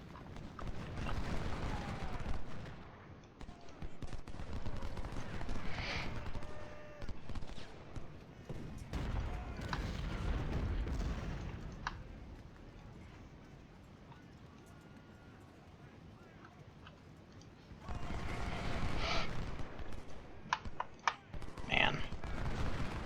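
Musket volleys crackle in a Civil War battle from the strategy game Ultimate General: Civil War, rolling bursts rising and falling over a dense background rumble while someone talks over much of it.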